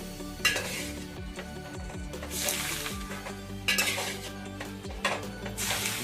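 Hot oil poured over onions in a pan with the gas off for a village-style Bengali spicy chicken dehati, giving a steady sizzle with intermittent stirring scrapes and clinks of pots and utensils throughout.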